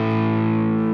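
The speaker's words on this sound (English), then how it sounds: "you still have a pretty saturated distortion." Electric guitar played with heavily saturated distortion, strings attacked hard in rhythm playing; a loud, dense sustained chord rings steadily for the whole second with no voices.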